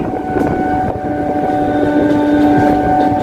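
Suburban train running along the track between Sealdah and BBD Bag through jungle-lined countryside, a steady loud rumble with a sustained whining hum and no talk.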